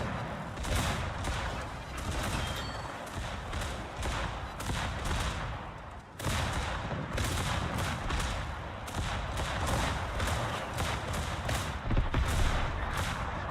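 Warship gun salvos in World of Warships, loud repeated booming volleys in bursts with brief pauses, one sharp break midway, continuing steadily throughout.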